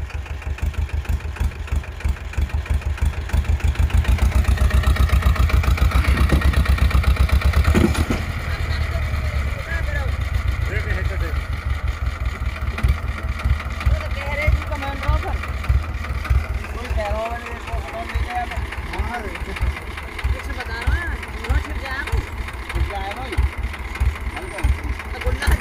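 Eicher, Sonalika and Powertrac tractors run with a loud, steady low engine throb that pulses rhythmically throughout, nearby, while people talk over it.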